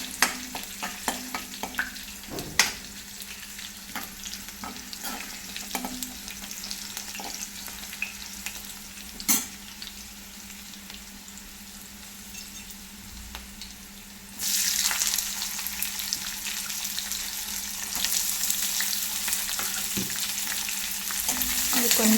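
Curry leaves and onion frying in a pan over low flame, a steady close sizzle punctuated by spatula taps and stirring scrapes, growing louder and hissier toward the end, with no talking.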